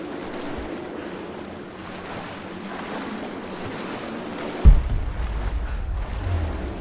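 Water sloshing and surging around Lara as she swims through cold water in Rise of the Tomb Raider, a steady watery wash that swells into a louder, deeper rush of current near the end, with no talk.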